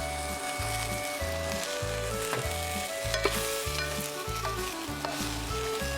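Mushrooms frying in olive oil, a bright steady sizzle with repeated rhythmic stirring and pan scraping in close, regular pulses, without talk.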